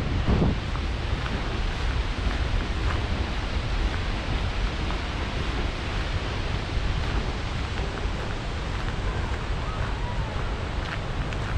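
Hidden waterfall on a cold day, water pouring steadily onto people walking beneath it, a continuous broadband rushing roar with no breaks, close and fairly loud throughout.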